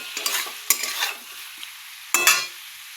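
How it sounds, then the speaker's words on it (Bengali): A spatula scrapes and stirs in a hot pan of fish curry with ridge gourd, pointed gourd, onion and salt. Oil sizzles continuously under bursts of scraping, and there is no talking. "এবার একটুখানি কষতে থাকবো।"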